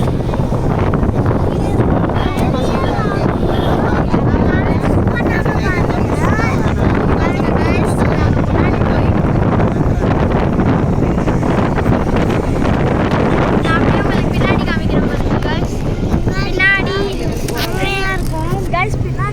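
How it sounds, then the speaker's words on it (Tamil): Strong wind buffets the microphone at a lakeside viewpoint, a loud, continuous roar that fills the whole stretch, with a person talking under it. "செம்ம காற்று"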